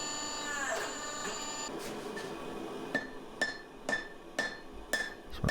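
Forging press squeezing a multi-layer damascus steel billet in a smithy, with a steady mechanical hum and a ringing tone early, then a series of sharp metallic clanks and knocks recurring roughly every half second toward the end.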